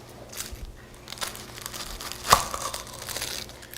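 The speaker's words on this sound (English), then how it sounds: "Take off the skin and 1 layer if it seems like it needs to" Papery skin is peeled off a whole onion, giving soft, close crinkling and crackling with one sharper tearing snap partway through, faint and without talk.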